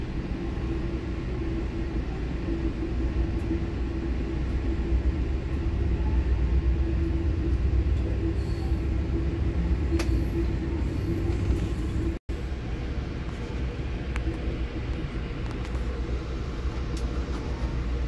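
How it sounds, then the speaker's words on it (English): Steady low rumble of a freight train rolling past while blocking the road, heard from a waiting vehicle, a continuous heavy drone with rail clatter that holds level throughout with one brief dropout. "Train blocking us."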